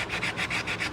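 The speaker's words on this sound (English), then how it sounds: "I'm gonna take a little bit of sandpaper. I'm gonna use 220. And I'm gonna kind of go around the edge right here" 220-grit sandpaper rubbed by hand around the rusty edge of a car brake hub, quick rhythmic back-and-forth scratchy strokes, about six in a second, close and steady.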